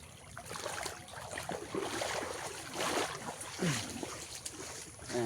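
Floodwater currents running across a flooded field make a soft, continuous rushing and gurgling, with wind noise and light swells in loudness throughout.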